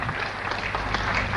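Applause from a mushaira audience at a poetry gathering, a dense, steady patter of many hands filling the whole short moment at even loudness.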